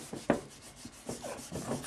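Writing is rubbed off a classroom board during a lesson in short, close, scratchy strokes, about five quick swipes with brief gaps between them, and no voices.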